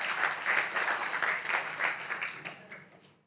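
A church congregation claps for God during a service, a dense, steady burst of applause that fades out toward the end.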